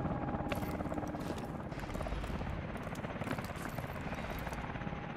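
A military helicopter in Call of Duty: Advanced Warfare thrums with loud, steady rotor chop and engine roar, close and continuous with no speech.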